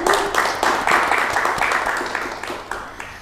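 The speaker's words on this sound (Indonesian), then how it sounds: "kita beri tepuk tangan dulu" A crowd at a regional leadership stage event breaks into loud applause, a close, bright clatter of many hands that swells early and slowly thins out toward the end.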